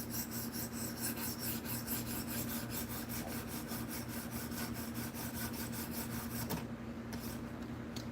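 Knife edge rasping steadily over a 600 grit stone on a KME sharpener, final grit on a Vanadis/Elementum D2 blade; continuous close rubbing strokes with no talk.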